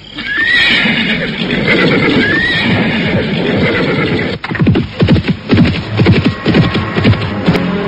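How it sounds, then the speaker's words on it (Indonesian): Horses in a televised drama set on a mountain slope neigh and whinny over loud hoofbeats, then the hooves clatter in a rapid galloping rhythm as the riders set off, with no speech. "Akhirnya derap kaki kuda mereka pun lenyap di balik tikungan sebuah bukit"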